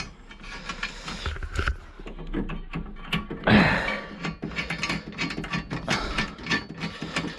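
A ratchet clicks rapidly in bursts as the clamp bolts and nut come off a 2003 Volvo XC90 car battery, close and fairly loud, with brief pauses between runs of clicking and some metallic handling.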